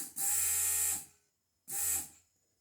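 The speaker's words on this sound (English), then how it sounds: "Vacuum pump comes on for a second." An electric vacuum pump in a Jeep converted to Tesla power whirs on twice: a steady, fairly loud buzzing hum for about a second, a pause, then a second shorter run, with no talking.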